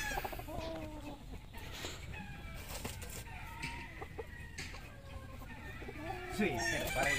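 Gamefowl roosters crow and cluck repeatedly against steady farmyard background noise, several birds overlapping at close to moderate distance, with other birds chirping throughout.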